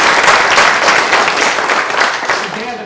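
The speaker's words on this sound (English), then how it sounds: "Give a round of applause for the" A town hall audience breaks into loud, dense applause and clapping that fills the whole moment, close and sustained.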